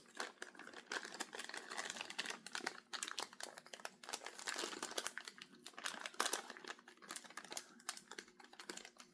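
A plastic Ziploc bag crinkles and rustles close by in a steady run of small crackles while it is handled and pulled open. No one speaks.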